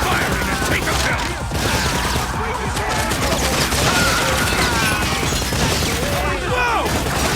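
Steady machine gun fire in a PlayStation light-gun game rattles on without pause, loud and dense, while voices shout over the battle.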